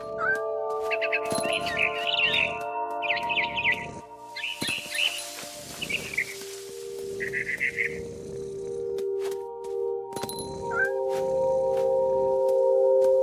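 A cat meows repeatedly in the video game What Remains of Edith Finch, a series of clear close mews in short bursts over sustained background music, with some bird-like chirps mixed in.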